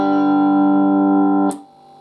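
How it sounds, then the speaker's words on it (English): An electric guitar chord is struck open and left ringing without palm muting, sustaining loud and full for about a second and a half before being cut off with a brief scrape. "unpalm muted it will sound like this"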